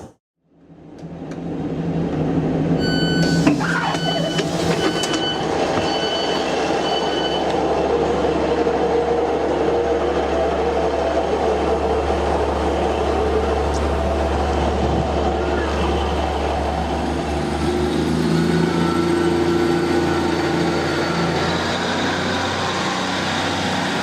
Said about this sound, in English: Now that train really is on a canter there